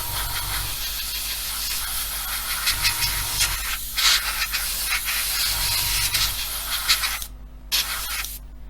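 An airbrush sprays paint onto parts of an Airfix 1/24 F6F-5 Hellcat model, a steady hiss running in bursts with short pauses and a quick stop near the end.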